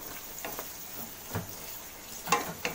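Onions fry in oil in a pan for a beef and potato curry, making a soft continuous sizzle with a few light stirring clicks and scrapes near the end.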